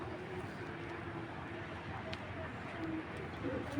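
Several imported racing pigeons in a loft coo in low, steady murmurs, a soft continuous cooing bed with faint background noise and no talk.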